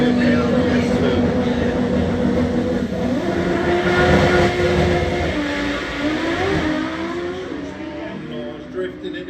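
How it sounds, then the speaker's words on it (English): Front-wheel-drive drag race car at Hal-Far Raceway national finals, a loud roaring engine that climbs and shifts pitch as it runs down the track, steady and sustained, with a commentator talking over it. "Drifting it down the track."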